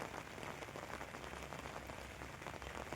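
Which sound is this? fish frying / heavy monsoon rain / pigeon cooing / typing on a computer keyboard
heavy monsoon rain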